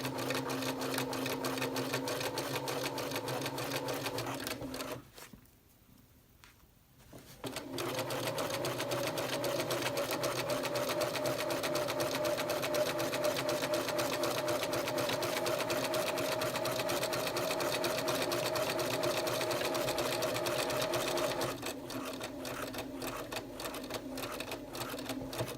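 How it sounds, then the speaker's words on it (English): A sewing machine stitches steadily around a skirt pocket bag, a close, even whirring hum that pauses briefly partway through for a pivot, then runs on continuously before easing into a lighter rhythm. "put my needle down on the dot, lift the presser foot, and then pivot and go right around the pocket bag"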